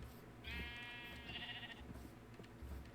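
A Minecraft sheep lets out a long, wavering bleat, followed by a second shorter call, over a low, busy background hum.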